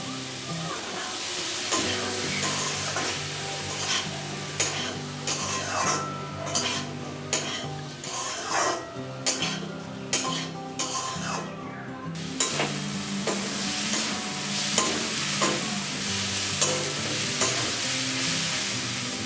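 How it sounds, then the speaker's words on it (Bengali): Dal and potatoes with spices are stirred and sautéed in a sizzling pan, a spatula scraping and knocking against the metal in an uneven rhythm over continuous frying. "মশলাটা কষানো হয়ে গেলে এর মধ্যে আমি ডাল আর আলুটা দিয়ে নেড়ে চেড়ে কষিয়ে নেব।"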